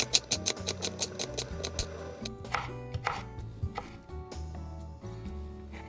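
A kitchen knife chops vegetables into long thin strips on a cutting board, a steady run of crisp, close taps that quickens and then blurs into a softer, continuous rhythm toward the end.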